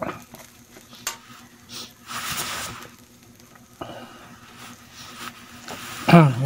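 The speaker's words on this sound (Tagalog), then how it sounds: "Halo-halo uli hanggang maluto." Adobo is stirred in a pan with intermittent scraping and clinking strokes over a soft sizzle, a spoon rattling louder near the end, with a voice speaking at times.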